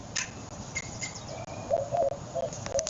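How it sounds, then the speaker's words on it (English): A bird calls a few times with short, clear chirps over a low steady background hum, moderately close, with no talking. "This is a bird."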